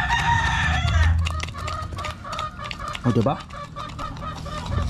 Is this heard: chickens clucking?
yes